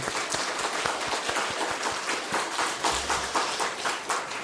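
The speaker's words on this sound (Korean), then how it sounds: "우리 박수로 우리 하나님께 영광을 올려드릴까요?" A church congregation at a Sunday morning worship service applauds, a dense, lively burst of many hands clapping close by, with audible individual claps in the mix throughout.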